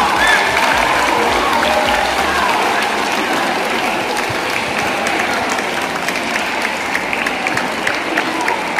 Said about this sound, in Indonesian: Kasih aplaus yang meriah.